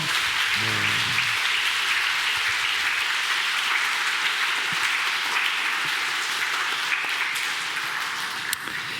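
Sustained applause from a large church congregation at a Sunday service fills the space, steady and dense throughout, with no talking over it.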